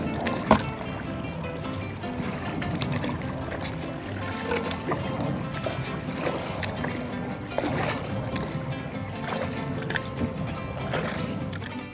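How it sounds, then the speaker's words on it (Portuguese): Strong river rapids at Bom Sucesso rush loudly and continuously, a churning roar of water with splashing surges and no talk over it. "Mas corredeirona é forte."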